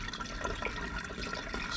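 Water pours from a measuring cup into a jug while making king cake mead, a short, close gurgling and splashing stream with no voices.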